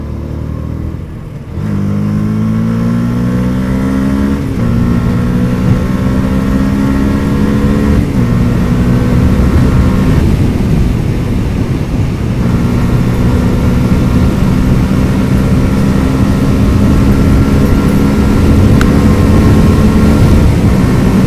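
Yamaha YZF R125 125cc motorcycle engine at full throttle, a loud close buzzing drone that climbs steadily in pitch through several gear changes, each shift dropping the tone before it rises again, over heavy wind rush, with no talking.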